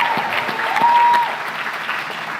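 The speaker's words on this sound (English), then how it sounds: "So thank you for the pre-applause." Applause from a large audience at a university medical school commencement ceremony, a loud, dense burst of clapping that tapers off gradually over a couple of seconds.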